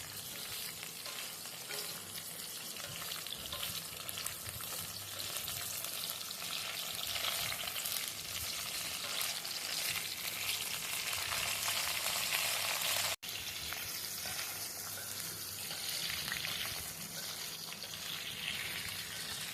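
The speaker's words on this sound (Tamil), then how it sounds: "இப்போ நம்ம கத்திரிக்காய் அதில் மெதுவாக போட்டு வதக்கி வச்சுக்கலாம்" Brinjal pieces fry in hot oil for a Tamil eggplant kuzhambu: a continuous, close crackling sizzle with occasional stirring that carries on evenly through a brief break.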